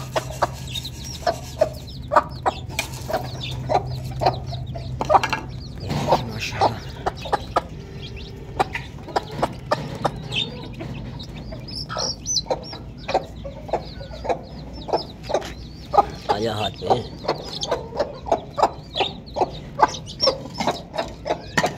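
A mother hen clucks repeatedly, close by, alongside a brood of chicks on a village farm, their calls coming in steady bursts for the whole stretch, with no talking.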